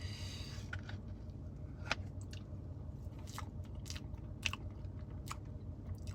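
Close, quiet chewing and biting of a Burger King Firecracker cookie pie, with soft crunches and two sharper bites standing out over a low background hum.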